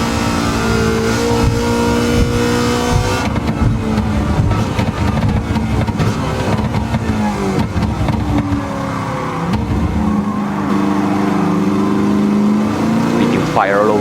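A race car engine in the No Hesi driving game on a Wangan Midnight-style highway run roars loudly and steadily as it pulls through gears down a main straight, with speech over it.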